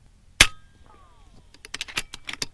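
An FX Impact air rifle fires once with a sharp, loud crack, followed by a faint ringing tail and a few scattered clicks and clinks.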